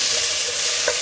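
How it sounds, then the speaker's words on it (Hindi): Cubed potatoes fry on a low flame for sabudana khichdi, a short burst of dense, even sizzling with one faint utensil tap near the end, no voices. "क्यूब किया हुआ आलू डालूंगी। थोड़ा सा 1 मिनट के लिए फ्राई कीजिए लो फ्लेम में।"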